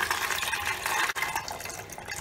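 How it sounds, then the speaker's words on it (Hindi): Water used for soaking chickpeas is poured into a pressure cooker in a steady, splashing gush that lasts a couple of seconds, close and fairly loud. "तो हम इस पानी को फेंकेंगे नहीं, कुकर के अंदर डाल देंगे।"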